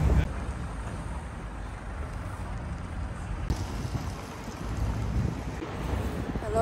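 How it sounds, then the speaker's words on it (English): Outdoors with an unshielded microphone, wind buffets and rumbles against it in uneven gusts, a low roaring wash that swells and eases throughout with no speech on top. "I hope it's not too windy, since I still don't have the equipment, the fuzzy equipment to block the wind"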